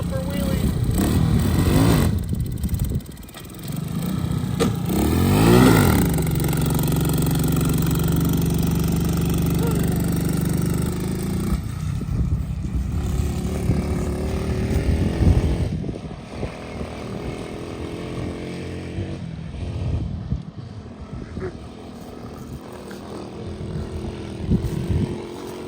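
A Tao Tao Chinese ATV engine revs up and down, near and loud, with rising and falling throttle sweeps and idle stretches, while people talk over it.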